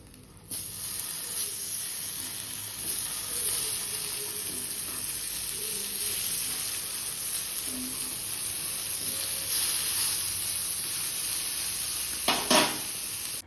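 Greens and eggplant frying in oil in a pan, a steady close sizzle and hiss running throughout with a brief louder spatter near the end, no voices.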